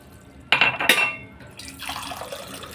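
Water is poured for making tea, starting with a sudden splash and clatter against a vessel, then continuing as a steady, softer close-up pour.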